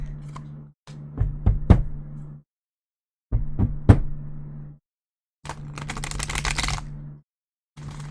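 Tarot cards are shuffled in several separate bursts, with crisp riffling and tapping bunched into short flurries. Near quiet gaps fall between the bursts, and a low steady hum runs underneath.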